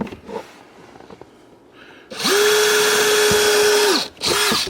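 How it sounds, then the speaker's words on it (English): Power drill boring through the body panel of a Jeep TJ: a loud, steady high whine of about two seconds with a sharp start and stop, then a short second burst, after a quieter stretch of faint handling noise. "I can see my holes from the hole on the outside that I drilled."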